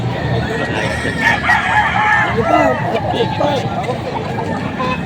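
A rooster crows a few times through a busy crowd of voices chattering nearby at a chicken market in Padre Garcia, Batangas.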